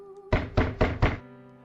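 Knocking on a door in a video game, four firm, evenly spaced wooden thuds close by, with a faint background tone before and after.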